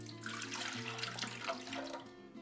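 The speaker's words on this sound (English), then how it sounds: "We're going to take all of our liquids and we're going to add them right into the bread maker." Liquid pours steadily into a bread maker pan for a gluten-free loaf, a continuous close splashing trickle with no speech.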